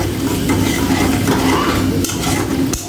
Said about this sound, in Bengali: ভালোভাবে একটু নাড়িয়ে চাড়িয়ে নেব